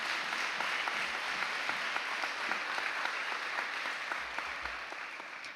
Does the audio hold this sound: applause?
yes